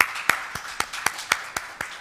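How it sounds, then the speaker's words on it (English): Audience members clap for a panel of conference speakers, a sparse, evenly spaced clapping of a few hands rather than a full ovation, close and crisp with no voices. "I'd like to ask for a round of applause for all the 7 speakers"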